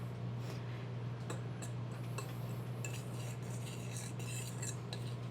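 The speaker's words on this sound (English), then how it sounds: "we're just gonna give these dry ingredients a mix here just to get it all incorporated" Dry baking ingredients with lumpy cocoa powder being stirred together in a bowl, giving soft continuous scraping and light clinks of a utensil against the bowl at close range, over a steady low hum.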